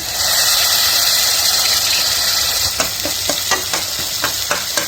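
Tomato, turmeric and green masala go into a sizzling pan of oil and are stirred, a steady frying hiss with a run of spoon scrapes and clacks in the second half. Nobody speaks.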